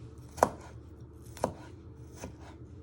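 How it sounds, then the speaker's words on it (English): A knife chops garlic into little pieces on a board, three separate knocks spaced about a second apart, the last one softer, close and quiet with no voices. "You first just want to slice it one way, and then you just want to chop it into little pieces"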